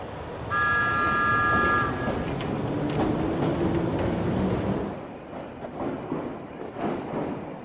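A London Underground Tube train rumbles along the rails with a steady low roar, a brief horn toot near the start, and the noise easing slightly toward the end.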